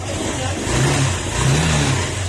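A vehicle engine keeps running after being switched off, a steady mid-pitched hum that swells slightly twice, close and alone without talk.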